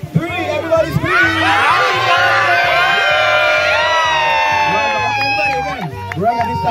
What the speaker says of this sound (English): on the count of three, everybody, we are going to scream happy birthday, Durangat.